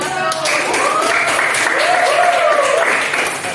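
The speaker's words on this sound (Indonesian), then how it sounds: "Tepuk tangan." A classroom of students applauds after a presentation, loud, dense clapping sustained evenly for several seconds, with some voices mixed into the applause.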